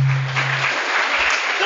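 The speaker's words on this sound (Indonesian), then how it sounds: "Aplaus dulu dong" An audience at an Islamic lecture claps together in a dense, steady burst of applause that fills the hall, with a low hum underneath.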